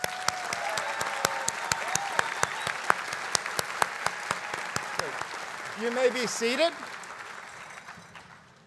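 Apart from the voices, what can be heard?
applause at commencement ceremony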